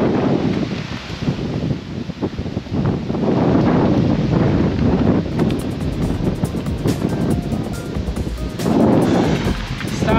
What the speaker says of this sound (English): Can the wind stop blowing?